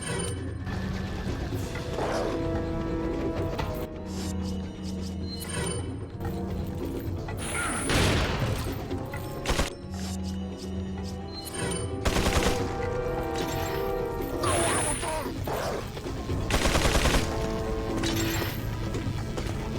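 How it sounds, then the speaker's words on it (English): A chain gun enemy fires in Resident Evil 4 HD: long mechanical whirring and rattling bursts of rapid gunfire repeat across the span, loud and sustained, over tonal game music, with no talking. "now a chain gun enemy has spawned"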